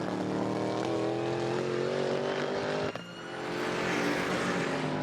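A race car engine at speed on track at GingerMan Raceway, a loud steady droning whine that dips briefly at a gear change before climbing again.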